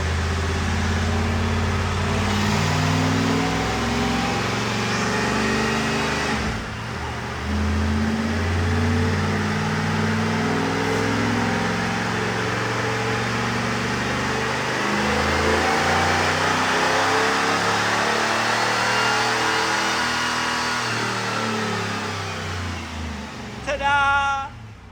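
A stock 1995 Chevrolet Camaro Z28 V8 roars continuously on a chassis dyno, the loud engine note climbing steadily through the gears before cutting off near the end.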